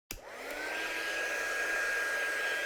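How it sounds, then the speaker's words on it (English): A crafting heat tool switches on with a click and spins up to a steady loud whirring blow, used to dry ink on a handmade Christmas card, running continuously and close. "I'm just going to quickly run it over with my heat tool"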